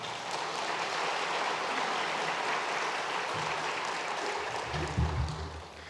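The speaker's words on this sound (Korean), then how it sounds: "잠깐 자리에서 일어나실 때 큰 박수로 환영하겠습니다." A church congregation at a Sunday worship service applauds steadily and loudly for several seconds to welcome a new family, a dense wash of clapping with a low voice briefly rising near the end.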